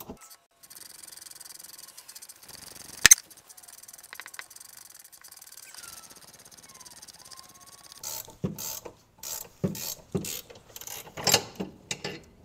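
Wrench ratcheting as a nut is tightened on all-thread rod to press a differential mount bushing on a BMW E46, with a run of sharp, evenly spaced clicks in the second half after quieter shop sounds.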